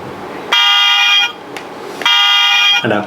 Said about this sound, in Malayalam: ഇനി ഹോൺ ഞാൻ അടുപ്പിച്ച് കേൾപ്പിച്ചു കേട്ടോ കിഡിലും ഹോണാണ്